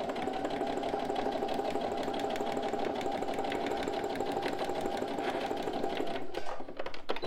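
A sewing machine stitches bias binding in the fold, running steadily at close range in one continuous rapid mechanical whir, then slowing and stopping near the end.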